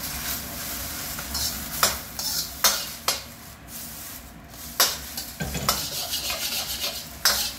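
Rice sizzles in a hot wok, pressed against the sides while a metal spatula scrapes and clanks in irregular strokes, cooking Cantonese fried rice with lacquered pork.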